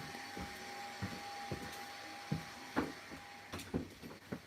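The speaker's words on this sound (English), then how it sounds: "That's the Hoover blasting itself away." A Hoover vacuum cleaner drones steadily and loudly in a nearby room, a constant whine with a sustained tone, broken by a series of irregular knocks and bumps.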